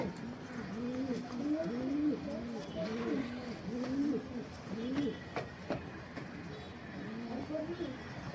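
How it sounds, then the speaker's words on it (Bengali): Racing pigeons on a farm, including a male, coo in repeated soft rising-and-falling phrases, fairly close and continuous, with a few faint clicks and rustles around them. "একটা নর কবুতর"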